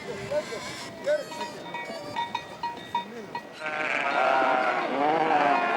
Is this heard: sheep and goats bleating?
yes